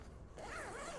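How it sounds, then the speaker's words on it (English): A zipper drawn along a flannel three-season sleeping bag, one quick close rasping pull that rises and wavers in pitch, quiet and near, with no talk. "and then zip it up"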